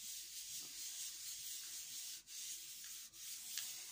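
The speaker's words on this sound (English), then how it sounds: "So I'm just rubbing over it." A hand rubs over a card pressed onto an inked gel plate to pull a print, producing a steady, close, hissing rub with two brief pauses.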